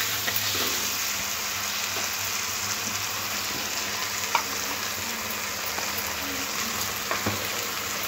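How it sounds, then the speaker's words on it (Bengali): Broad beans being stirred with tomato and mustard-poppy seed paste in a frying pan, a steady close sizzle with occasional faint scrapes of a spatula throughout. "শিমটাও খুব ভালো করে টমেটোর সাথে মিশিয়ে নিতে হবে"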